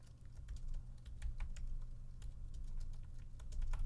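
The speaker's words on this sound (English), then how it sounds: "I'm typing it now." Rapid, steady keystrokes on a computer keyboard, close and fairly quiet, clicking continuously for several seconds over a low room hum with no talking.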